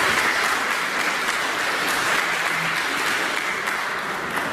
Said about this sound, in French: On peut applaudir ces personnes-là.